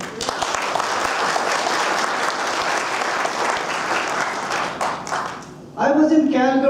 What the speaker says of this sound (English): especially with Brother Dale, with a big round of applause to him